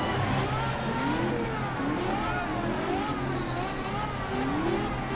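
Steady race car engine drone from the Cars Fast as Lightning video game, revving in rising and falling pitch sweeps throughout a race, loud and continuous with faint background sounds.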